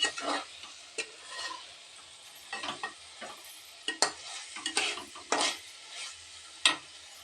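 Ridge gourd with rock salt cooking in oil for an egg stir-fry, a soft sizzle broken by repeated scraping and stirring strokes of a spoon in the pan, close and without talk.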